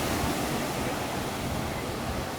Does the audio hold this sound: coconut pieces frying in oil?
no